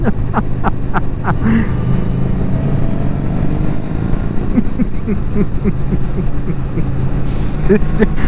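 Several motorcycle engines roar together at a big motorcycle meet in South Cornwall, a loud, continuous, dense rumble with revving swells that fills the whole stretch, with faint voices buried underneath.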